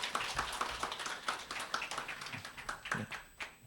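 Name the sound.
audience applause at award ceremony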